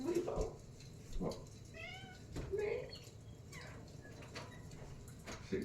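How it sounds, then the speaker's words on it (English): A pet cat gives several short, rising meows in a quiet home as it is taken away, sounding close but soft, with someone talking intermittently between the cries. "Now this cat's gonna be crying."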